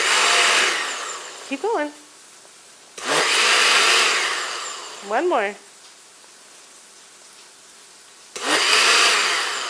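A kitchen blender pulses a meatball mixture in three loud whirring bursts of one to two seconds each, starting and stopping sharply, with people speaking briefly in the quiet gaps between them.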